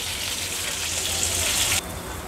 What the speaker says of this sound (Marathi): आवाजावरनच तुम्हाला कळेल का किती क्रिस्पी असे हे प्रॉन्स झाले आहेत